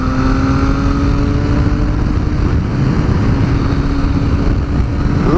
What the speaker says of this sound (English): Triumph certainly know how to make a triple engine